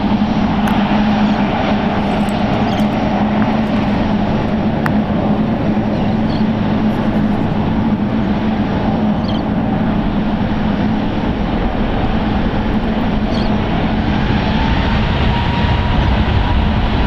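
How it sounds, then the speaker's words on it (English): An airliner taxiing toward runway 28 left at San Francisco International Airport, a steady loud engine rumble with a faint tonal whine held throughout and no voices. "taxiing to the 28 runways, most likely 28 left for departure"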